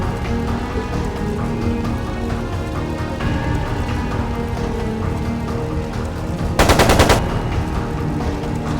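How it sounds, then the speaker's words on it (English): Machine gun fire in Trails of Cold Steel 2, a dense crackling burst of rapid shots rising briefly above a loud, continuous backdrop of game music and ambience. "It sounded like a machine gun."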